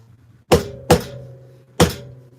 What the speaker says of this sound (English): you'll go through with your hammer and make sure to hit it and make everything